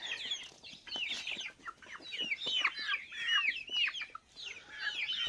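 Hens clucking and chattering as they crowd around to be fed grain in a rural Chhattisgarh village yard, a busy overlapping chorus of close calls with brief pauses.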